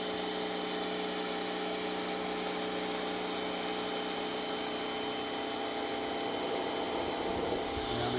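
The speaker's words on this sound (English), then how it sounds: "the push of the pressure washer is doing a lot of this" A pressure washer sprays a heavily soiled surface during a prewash, a loud, unbroken roaring hiss with a steady motor drone underneath, close and constant throughout.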